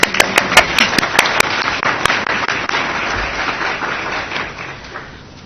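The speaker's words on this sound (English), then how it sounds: "One more clap." Applause at a school committee meeting, a room full of people clapping together, steady and fairly loud, with a few sharp close claps at the start, tapering off toward the end.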